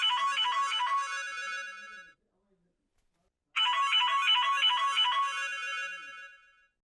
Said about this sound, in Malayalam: ആ ഫോണിഞ്ഞെടുത്തേ.